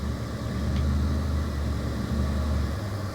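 An old farm pickup truck's engine runs in a rough, continuous low rumble, close and steady, with no talking over it.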